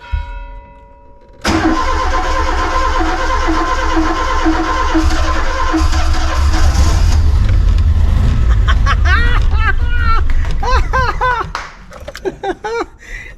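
Matra Simca Bagheera, parked for 12 years with a seized starter motor and brakes, cranking loudly and continuously after a brief pause; voices speak near the end as the rough mechanical churn drops away.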